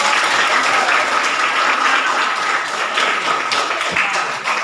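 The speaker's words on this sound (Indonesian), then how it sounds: "Iya, tepuk tangan." Loud, dense audience applause fills the whole stretch at a steady level, a sustained wash of many hands clapping in an indoor gathering.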